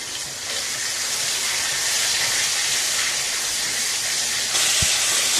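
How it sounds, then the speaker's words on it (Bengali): Chopped tomatoes hitting hot oil for a mustard pabda fish curry, a steady broad hissing sizzle that swells slightly near the end, close and continuous, with a single soft knock near the end. "এবার টমেটো কুচি আছে, টমেটো কুচি ছেড়ে দেবো।"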